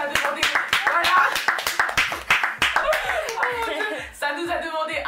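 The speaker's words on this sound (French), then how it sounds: "Je pense qu'on peut applaudir" A few people clap close by in a quick burst of sharp, distinct claps, mixed with chuckles and talking, and the clapping fades out near the end.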